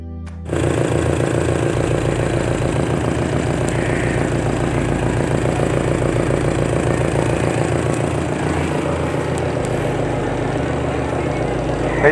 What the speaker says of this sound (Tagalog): Yung ikot ng motor, malakas.